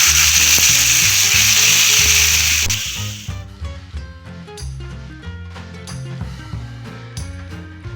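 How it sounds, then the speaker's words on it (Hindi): Julienned chicken fries with crushed ginger and garlic for a hot and sour chicken soup, starting with a loud, close sizzle that quickly settles into quieter frying and stirring. "चिकन अब इसके अंदर ऐड कर लूँगा। ऐड करके इसको फ्राई करूँगा।"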